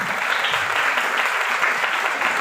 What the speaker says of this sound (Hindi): उनके लिए भी हम तालियां बजाते हैं